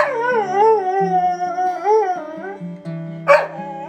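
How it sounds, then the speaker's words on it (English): A dog howls in long, wavering, sliding tones, loud and close, rising and falling twice before a short yelp, over a steady musical backing. "Very aggressive doggy tonight."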